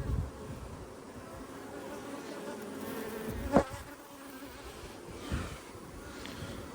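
Honeybees buzz around an open hive during an inspection, a constant, close droning swarm hum with a couple of brief knocks and handling sounds in the middle and no talking.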